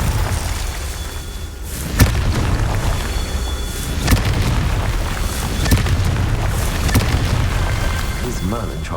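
Confringo explosion spell cast in the Hogwarts Legacy video game during spell trials: a dense rumbling blast bed with repeated sharp booming bursts and pops, loud and sustained, with game sound effects throughout.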